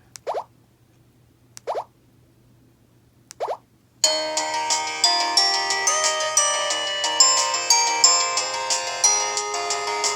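An LG Cyon SD1600 flip phone from 2003 plays its ringtone melody, heard as a bright, clear electronic tune of steady repeated notes after three soft plopping key sounds, with no talk over it.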